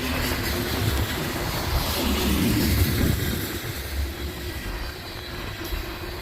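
A CSX coal train rumbles past on the rails on a windy day, a loud steady roar of wheels and wagons with wind noise, close by and continuous, no talking.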